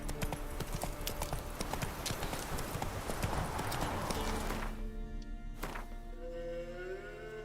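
A horse gallops in The Witcher 3 game, rapid rhythmic hoofbeats loud and close for about five seconds, then slowing and fading with a brief snort.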